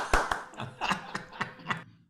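Scattered hand claps from a single participant in an online community guitar open mic, five or six uneven claps at close range with no other voices.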